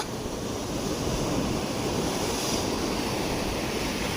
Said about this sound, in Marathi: लाटा बघा कसले येतात